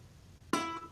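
A single ukulele pluck made with the thumb pointing down gives a sharp, harsh attack. The ringing note decays quickly over a faint background.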